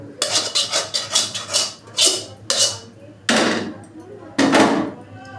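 Metal pan clattering and scraping as fried potatoes are taken off the stove and scooped out, a series of sharp clanks and bangs close by, with a voice speaking in the background.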